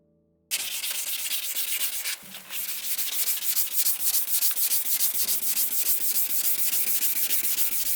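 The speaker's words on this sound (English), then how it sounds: "Then wet the sandpaper and begin sanding." 800-grit sandpaper rubs over a wet car headlight by hand in quick back-and-forth strokes, a close, steady, rhythmic scratching that keeps going with a brief pause partway through.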